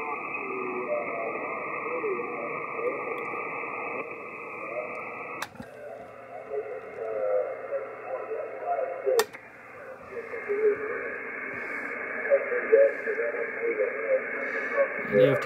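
Faint, garbled single-sideband voices drift through steady receiver hiss on a ham transceiver, broken by a couple of sharp clicks as the tuning shifts.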